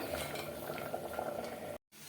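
Spinach greens boiling in a pot of water, a close, steady bubbling and simmering hiss with light clinks, ending in a brief cut to silence.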